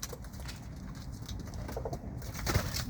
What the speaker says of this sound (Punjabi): ਇਹ ਸਾਰੀਆਂ ਕਬੂਤਰੀਆਂ ਨੇ ਦੇਖੋ